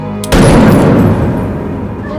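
A single loud gunshot cracks sharply and then rolls into a long, booming echo that slowly decays, with no voices.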